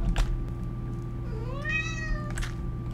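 A cat meows once in a rising, drawn-out call over a steady background hum during Minecraft play, loud and close, with no talk over it.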